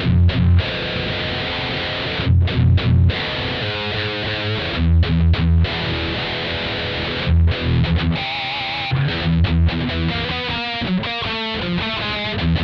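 Electric guitar played through a Mooer GE100 processor set to a heavy metal distortion tone, with chugging riffs and sustained chords that fill the clip loud and close, broken by a few brief gaps.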